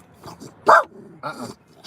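A dog barks a few times up close: soft low woofs, one loud sharp bark in the middle, then a longer rough bark near the end, in a quiet room.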